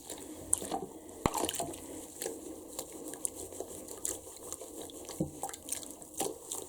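Water runs and splashes quietly as a dirty plush toy is rinsed and washed out, with soft irregular drips and sloshes and no talking.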